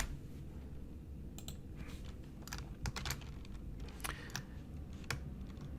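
Typing on a computer keyboard while entering an Excel formula: light, quiet key clicks tapping out in uneven bursts, close by and with no voices.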